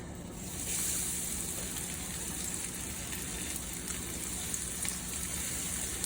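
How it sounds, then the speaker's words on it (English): Okra pieces hit hot oil and sizzle in a dense, steady hiss that starts abruptly and holds at an even level, with no talk over it. "put in a piece of okra, and if it immediately starts to sizzle, it's ready"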